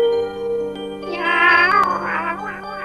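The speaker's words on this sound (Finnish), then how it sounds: "Ja oikea kissa. Miau miau." A cat meows in a few drawn-out, wavering calls over a steady musical background, loud and close, with no talking.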